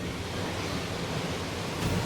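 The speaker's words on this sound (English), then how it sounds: "you can just hear the water slamming into the rock" Water crashing onto rock under a waterfall inside a small cave, a steady, dense roar that fills the space with no break and swells slightly toward the end.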